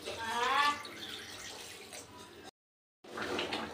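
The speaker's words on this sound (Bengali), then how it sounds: "এবার দিয়ে দিচ্ছি আমি পরিমাণ মতো জল।" Water poured from a container into a cooking pot of mutton and potatoes, a close, steady splashing stream that breaks off briefly and then resumes.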